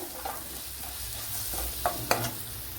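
Sautéing with curry leaves in a pan for a quail egg stew, a soft steady sizzle broken by a couple of sharp spoon scrapes and clinks near the end.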